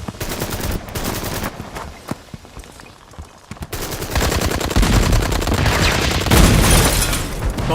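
Loud bursts of gunfire, including rapid machine-gun fire, in a movie battle scene at a barricade, with shots crackling throughout and growing denser and heavier in the second half.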